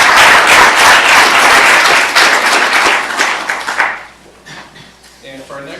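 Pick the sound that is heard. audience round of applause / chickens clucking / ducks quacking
audience round of applause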